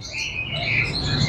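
Lovebirds in breeding cages at a busy bird market in Lahore give faint, high chirps and squeaks over a murmuring low background.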